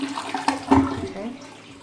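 A household toilet flushes close by, a burst of gurgling rushing water peaking early and then draining away and fading.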